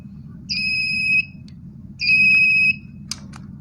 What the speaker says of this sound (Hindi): ये अलार्म एक तरीके का अलार्म दे रही है